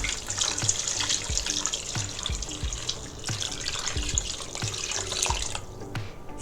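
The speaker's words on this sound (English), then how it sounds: "Now I'm adding water." Water pours from a tap into a cooking pot of lamb for yakhni pulao. The close, continuous splashing stream runs over soft low knocks and cuts off shortly before the end.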